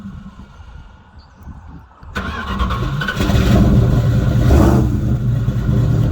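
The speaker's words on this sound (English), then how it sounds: "She can start her truck." A 1968 Dodge D100 Custom truck engine cranks and catches, then rises into a loud, rough revving idle that holds close and strong for several seconds.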